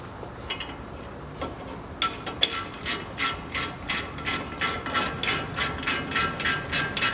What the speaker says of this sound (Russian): Прикручиваю болты.